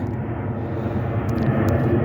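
A fixed-wing airplane flies overhead above a garden with a woven willow arch, a loud, steady engine roar filling the whole stretch without speech.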